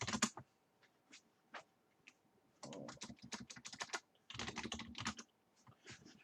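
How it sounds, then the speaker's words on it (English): Bursts of fast typing on a computer keyboard during an Alien tabletop role-playing session, quiet and close, with clustered clicks separated by short pauses. "I still love how like your keyboard sounds like an alien keyboard"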